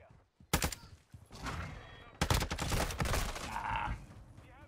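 Rapid bursts of gunfire in a shooting video game crackle in quick succession, loud and close, with several volleys over a couple of seconds.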